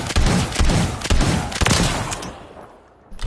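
Rapid automatic gunfire from a weapon in Call of Duty MW3, loud dense bursts firing in quick succession before cutting off into a brief lull and a final shot.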